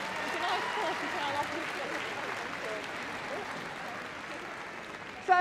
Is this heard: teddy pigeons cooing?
no